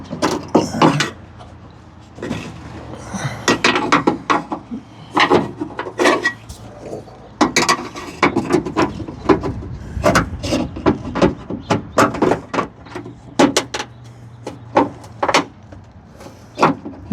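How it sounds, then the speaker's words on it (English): Plastic trim clip on an R34 Skyline exterior being twisted and gripped with pliers, giving scattered sharp clicks, scrapes and creaks up close with short pauses between. "trying to rotate the plastic clip around a little bit so I can actually clamp onto it with these pliers on both sides"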